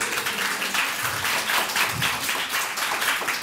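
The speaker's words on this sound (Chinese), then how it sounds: "我们大家给一个掌声" Audience applause at a Taipei community talk event on reading, a steady wash of clapping from a crowd sustained evenly through the moment without speech.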